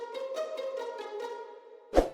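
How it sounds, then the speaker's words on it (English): A pizzicato strings software preset from the Expand plugin in a new wave pluggnb beat, with a short run of about seven light plucked notes followed by a single louder hit at the end, close and without talk. "we have the PIZZICAto strings from Expand, and they sound like this."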